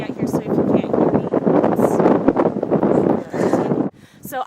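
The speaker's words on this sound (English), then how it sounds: "It's really windy out here" Gusty wind buffets the microphone in a graveyard on a Halloween night, a broad steady roar with rustling bursts running under continuous talk, easing briefly near the end.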